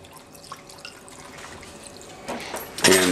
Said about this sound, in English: fill up the extra room with water